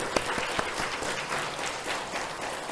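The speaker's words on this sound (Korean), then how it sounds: "우리 박수 한번" A congregation claps together during a church service, a short burst of close, lively applause lasting a couple of seconds.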